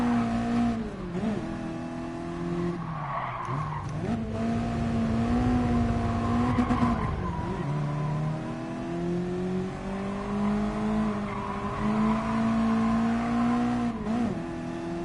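Racing car engines from GT Sport, a Mitsubishi Lancer among a pack including a Peugeot RCZ, rev and shift continuously, pitch rising and dropping through gear changes, steady and loud throughout without talk.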